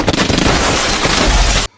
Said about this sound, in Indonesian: dia dikejutkan dengan suara ledakan dari luar